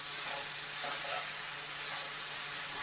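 Steady sizzle and low bubbling from a pot of one-pot spaghetti pasta being stirred over a medium flame, a continuous close cooking hiss with soft scraping movement and no speech.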